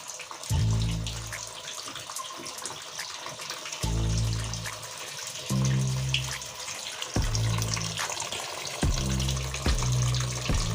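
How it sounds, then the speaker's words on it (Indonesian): Water runs into the tub of a Panasonic NA-W76BBZ2 washing machine for rinsing, a steady pouring gush with several pauses and restarts, fairly close and without talk. "Kita kasih air secukupnya ya."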